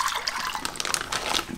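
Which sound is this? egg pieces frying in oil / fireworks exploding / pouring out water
pouring out water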